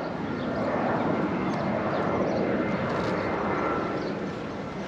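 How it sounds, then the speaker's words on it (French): A small airplane passing overhead, its engine a loud, steady droning roar that holds for several seconds, with no talking. "Petit avion."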